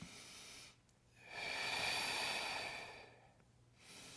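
Exercise breathing during a back and glute leg-raise workout: a slow, soft breath in then a long airy exhale, faint and close with no talking.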